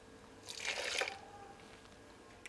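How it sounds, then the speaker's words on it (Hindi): Water is poured into a blender holding cut mangoes, a short splashing burst lasting about half a second, near and moderately quiet, then a faint hiss, with no talking. "इसमें थोड़ा सा पानी डालेंगे ब्लेंडर में"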